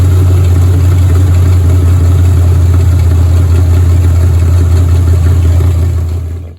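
A 1978 Ford Cobra II engine running steadily at idle, a loud close deep hum with an even low rumble that holds for several seconds before cutting off abruptly at the end.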